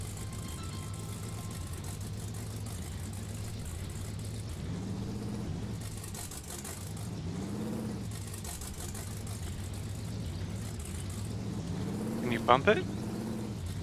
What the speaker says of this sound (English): Smoking the tires. I can't back off the throttle enough